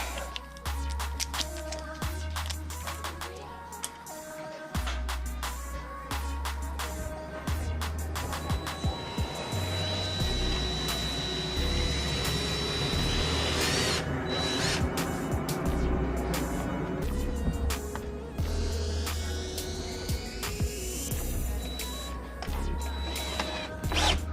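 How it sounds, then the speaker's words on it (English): A power drill drives a screw into an exterior door frame, its motor whirring in repeated bursts of varying length, moderately loud and close, with short quiet gaps in between. "Let's go ahead and run a screw in there."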